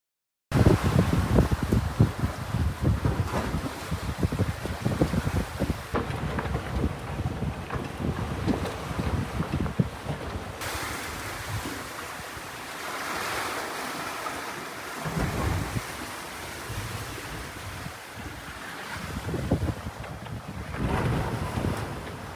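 Steady wind rushes over a sailboat crossing at night from Bonaire toward Curaçao, with water washing along the hull. The broadband roar stays fairly loud and continuous throughout, with gusting swells and no one speaking.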